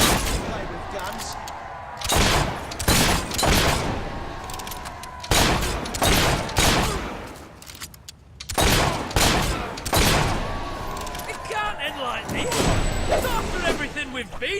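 Gunfire in the video game Fable 3 comes as repeated loud bursts of shots separated by short gaps, some drawn-out volleys and some short clusters, with a few quieter stretches and faint tones between them.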